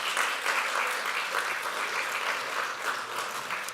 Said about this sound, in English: I think you should give a special round of applause for this group